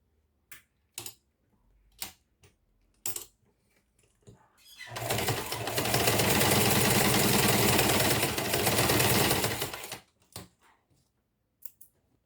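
A sewing machine stitching the fabric lining of a school pencil case runs in one steady whirring burst of about five seconds, close and loud, with sparse clicks and handling taps before and after.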